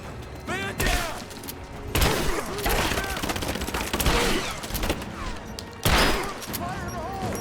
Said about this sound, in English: Give me cover. Suppressing fire.